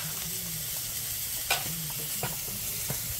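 Onion and garlic fry in a pan over a fireside chulha, a close, even sizzle with a few soft stirring scrapes and light taps; no speech is heard.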